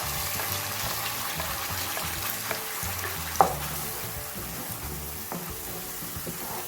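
Ground masala paste poured into a hot pan with curry leaves for a kadala curry, sizzling and frying steadily with stirring clatter and a brief sharp clink partway through, no voices.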